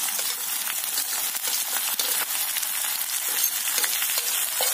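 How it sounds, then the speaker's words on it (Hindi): Chopped onion hitting hot oil while cooking sarson ka saag, a loud steady hiss of frying that continues evenly throughout with no talking. "ये जब ब्राउन हो जाए तब हम इसमें डाल देंगे प्याज, अब जाएगा इसमें प्याज"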